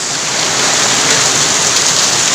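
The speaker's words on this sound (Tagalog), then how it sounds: "Sobrang lakas ng ulan oh." A torrential afternoon downpour roars close and loud, a thick, even wash of rain on surfaces with no pause.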